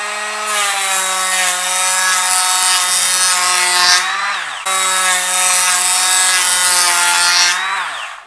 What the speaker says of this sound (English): I'm going to start off with planing at a depth of 1mm.